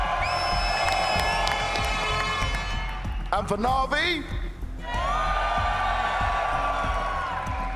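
A split esports arena crowd cheers and whoops loudly for G2 and NAVI at the BLAST Fall Final 2024 grand final, a sustained roar that surges and dips under a caster's amplified voice.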